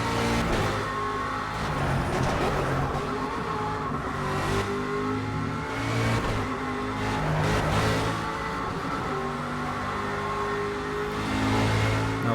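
An Aston Martin V8 Vantage GTE race car in the Project Cars racing game roars through repeated rises and drops in revs as it accelerates and shifts, a loud continuous V8 engine note with no talk.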